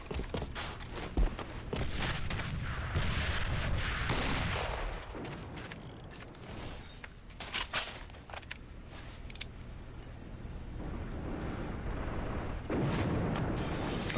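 A grenade is thrown and explodes in a multiplayer shooter match on an airplane map, set amid dense, loud gunfire bursts, footsteps and effects, with a booming blast layered into the constant combat noise.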